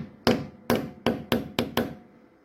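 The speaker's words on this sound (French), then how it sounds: "avec un petit maillet" Six sharp, close taps from a small mallet strike a VW 4Motion Haldex rear axle part, evenly spaced and each ringing briefly before the next.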